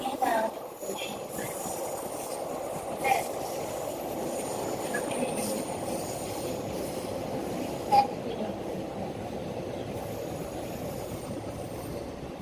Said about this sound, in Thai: ขบวน 304 ค่ะ เป็นขบวนธรรมดา มาจากนครสวรรค์ค่ะ เข้ามาในชานชาลาที่ 7 จะเข้ากรุงเทพค่ะ